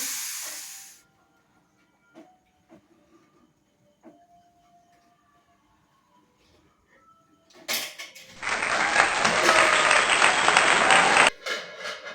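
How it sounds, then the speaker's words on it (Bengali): A pressure cooker of thin meat curry lets its whistle go with a sudden loud, steady rush of steam that hisses for about three and a half seconds and then cuts off sharply, after quiet kitchen clinks. "সিটিটা বার করে দিচ্ছি"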